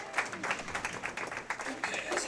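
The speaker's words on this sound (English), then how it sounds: "So you can hear crowd here." Crowd at a women's professional bowling regional tournament applauding, a brief rippling patter of claps mixed with a commentator talking over it.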